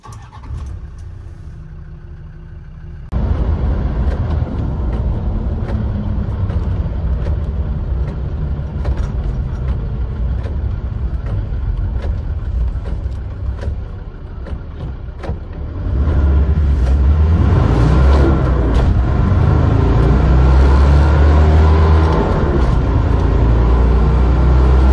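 A Stage 2 tuned Land Rover Defender starts and revs, then pulls hard on a 0-60 mph run with a loud, rising roar as it accelerates, growing heavier toward the end.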